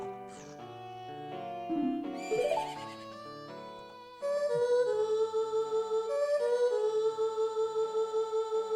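A horse whinnies in Zelda: Majora's Mask amid layered game music, with a rising neigh near the start and a steady melodic, pulsing theme continuing loudly afterward.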